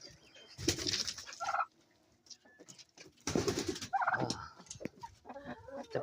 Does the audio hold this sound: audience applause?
no